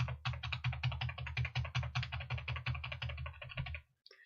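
Rapid, evenly spaced key presses tap out a fast rhythm on a nearby keyboard, then stop abruptly.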